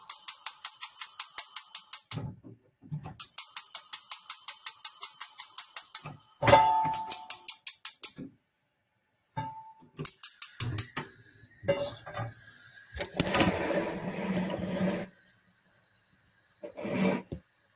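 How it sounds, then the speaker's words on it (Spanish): A kitchen stove is switched on and lit, with rapid bursts of ratcheting igniter clicks in repeated runs, then a whoosh as the burner catches, followed by clattering and handling noises. "Voy a encender la estufa."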